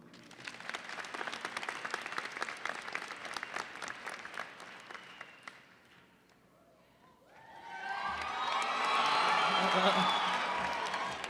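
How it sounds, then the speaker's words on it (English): An audience at a high school graduation ceremony breaks into applause, first as steady clapping, then after a short lull as a fuller swell of clapping and cheering. The clapping sounds moderately distant. "Please welcome all our guests this evening with a round of applause."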